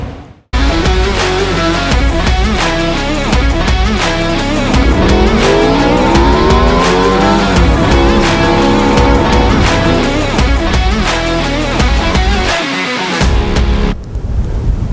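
A 2025 Ford Mustang GT's V8 engine drives hard with loud, sustained roaring, rising and falling revs and possible tire squeal, continuous for most of the stretch with a brief cut at the end.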